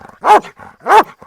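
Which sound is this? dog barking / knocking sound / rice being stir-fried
dog barking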